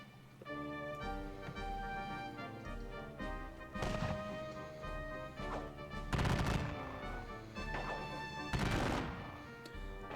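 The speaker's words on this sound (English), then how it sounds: "So, opening fire all over the place." Musket and cannon fire from the Battle of Borodino wargame, with scattered crackling volleys and heavier booming bursts over a sustained musical drone, moderately quiet and without voices.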